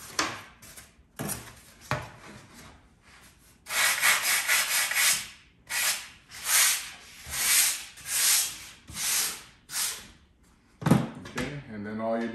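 Die-cut ceiling tiles get their edges lightly sanded, with rhythmic back-and-forth rasping strokes that come close and fairly loud in a regular series, after a few brief scrapes at the start.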